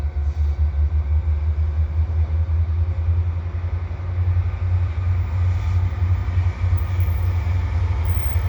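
CN freight train rolling westbound past Dorval on a sunny winter afternoon, a loud, steady low rumble of wheels and engine holding close and unbroken throughout.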